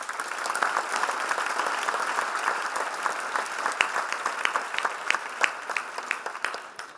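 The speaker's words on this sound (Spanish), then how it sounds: "Un aplauso para ellos." Applause for organ donors at a healthcare award ceremony, steady clapping from the audience that continues for several seconds and then tapers into scattered claps.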